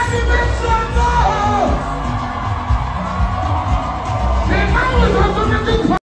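Crowd cheering and shouting at a Nigerian burial celebration for a musician's father, a dense, steady roar of voices with music underneath, continuous and loud from start to finish.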